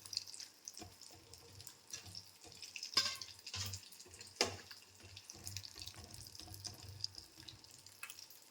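Water poured into a pot of fish curry in a home kitchen, a close, splashy trickle with scattered clinks and drips, moderately quiet and with no talking.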